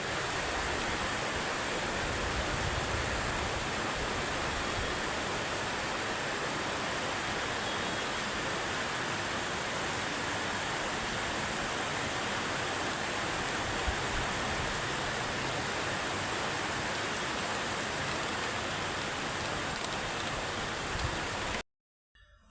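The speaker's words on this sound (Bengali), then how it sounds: "বৃষ্টির শব্দ শুনে হয়তো বুঝতে পারতেছেন যে বৃষ্টি কিন্তু জোরে হইতাছে" A loud, even rushing wash of heavy rain fills the air continuously, dense and unbroken until it cuts off abruptly at the end.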